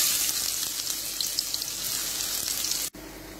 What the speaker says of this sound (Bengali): বেরেস্তা করে নেওয়ার জন্য আমি পেঁয়াজ ভেজে নেব।